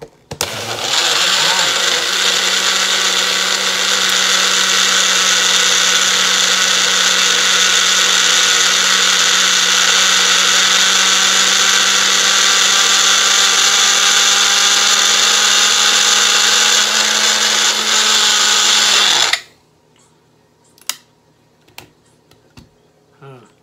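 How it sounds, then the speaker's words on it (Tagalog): Electric blender whirring steadily as it mixes an avocado shake, a loud continuous motor drone for about nineteen seconds before it cuts off abruptly, leaving faint clinks and background sounds. "Blender na lang natin mga kabalin dito."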